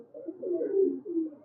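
A pigeon giving a short, soft run of low, throaty coos, close by and alone, in a brief murmuring phrase lasting just over a second.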